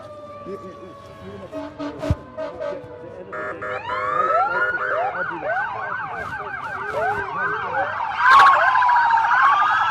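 An ambulance siren in a carnival parade, loud and close, sweeping up and down in rising wails over crowd noise, with a horn-like burst near the end.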